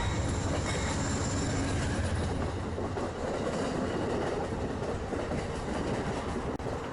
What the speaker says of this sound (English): You'll see lots of passenger trains from Metra and Amtrak.